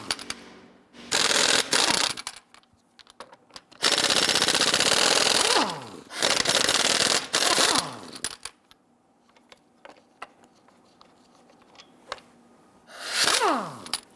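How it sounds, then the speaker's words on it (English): Socket and ratchet or impact tool loosening and spinning off the lug nuts on the driver's side front wheel of a 2011-2021 Jeep Grand Cherokee, in loud bursts of several seconds separated by quieter gaps. "Using a 22mm socket,"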